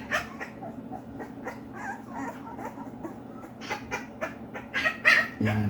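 An American Bully puppy whimpers and yelps in a run of short, high cries, close by and fairly steady, growing a little louder toward the end, with no talking.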